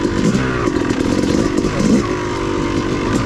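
Off-road motorcycle on a steep trail at Brown Mountain OHV, ridden with light throttle. The engine runs in a close, steady, rough drone for the whole stretch, with small surges and some clatter.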